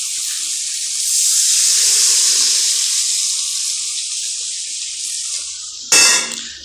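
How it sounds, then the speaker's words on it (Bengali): Water pours from a vessel into a pan of spiced fish curry, a loud hissing gush lasting several seconds before a brief clatter. "এখন আমি পরিমাণ মতো জল দিয়ে দেব"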